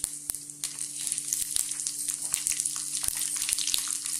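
Cumin, fenugreek, mustard seeds, dry red chillies and green chillies fry in hot oil, a continuous close sizzle with bright crackling spatters and occasional sharp pops, no one talking.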